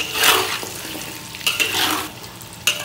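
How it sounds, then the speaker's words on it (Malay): Pieces of yam taro fry in hot oil, a steady bubbling sizzle with bursts of crackle and scraping stirs from a slotted spoon, close and fairly loud, with no talking. "Fry the taro till golden brown."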